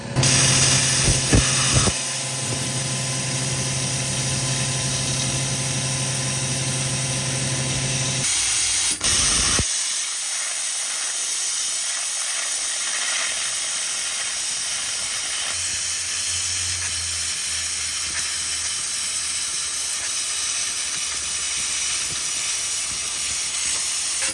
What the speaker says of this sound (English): I'm gonna cut all the good steel out of it.